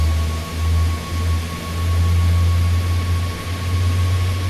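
Rolls-Royce XWB airliner engines in a flight simulator give a steady, low droning hum with a faint high whine on top, holding an even level throughout with no talking.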